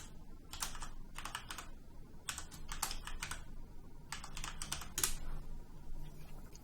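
Keys on a computer keyboard are typed in several short bursts of rapid clicks with pauses between, close and clear, with no voices.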